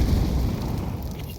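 A grenade blast in a Counter-Strike match at IEM Katowice 2025: one loud, deep, rumbling boom that fills the whole moment and slowly decays.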